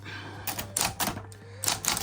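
Light, quick keystrokes clack on a Smith Corona Citation Power Correct XT electric typewriter, a few clustered bursts of close, crisp strikes over a steady low motor hum.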